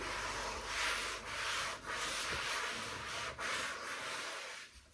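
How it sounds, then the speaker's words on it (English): A white towel rubs across textured porcelain tiles as they are dried, giving a steady, close scraping swish broken by a few short pauses, with no speech. "if you've got a white towel, you can basically just throw this down And we can dry the surface of these tiles very quickly."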